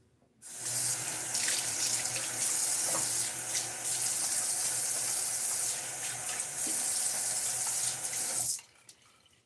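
A tap runs steadily into a sink for a rinse after a shave, a close, constant splashing gush that starts abruptly and cuts off near the end, with no voices.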